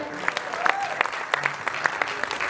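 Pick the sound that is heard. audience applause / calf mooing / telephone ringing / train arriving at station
audience applause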